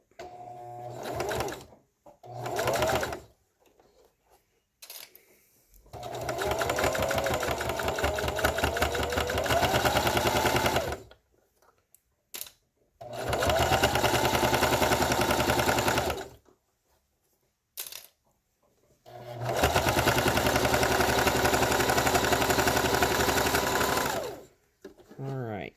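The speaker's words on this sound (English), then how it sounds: "and now we sew." Sewing machine stitching with a bias tape binding foot, four bursts of rapid mechanical whirring and needle chatter separated by pauses, close and clear, with brief faint handling sounds between runs.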